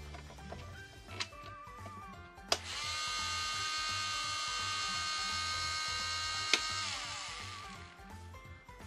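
An AliExpress electric nail drill is switched on and runs at full speed with a steady, close, high-pitched whine for about four seconds, then spins down and stops amid faint handling clicks.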